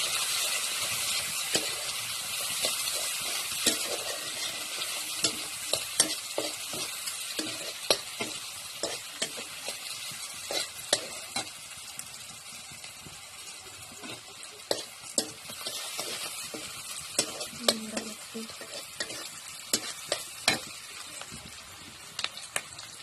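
Onions with a pinch of salt are stirred and fried in a pan, giving a continuous sizzle punctuated by frequent sharp scrapes and clicks of the spatula throughout.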